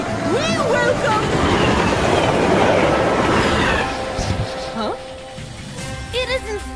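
In a cartoon, the runaway Dizzy Dust Express rumbles loudly along its rails with a dense, continuous roar for several seconds before easing off, and excited voices speak over it.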